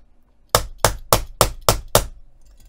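Six evenly spaced, sharp hammer strikes setting a snap fastener through fabric on a cork or leather cuff, loud and close with a brief ring after each blow.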